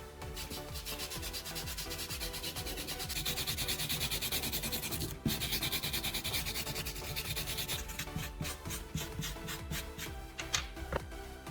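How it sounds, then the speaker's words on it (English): A steel brush lightly roughening a leather strop in a knife-sharpening workshop gives steady, close scrubbing and scraping strokes that run continuously, with no talking. "Use a steel brush to lightly roughen the leather."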